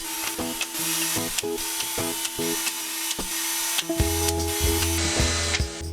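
A power sander grinds against wood in bursts, its motor whine starting and stopping over steady broadband scraping, close and fairly loud.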